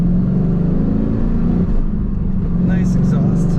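Exhaust of a red 1999 Chevrolet Camaro SS with a 6-speed manual and T-tops, a steady low engine drone while driving, loud and close, with some speech over it.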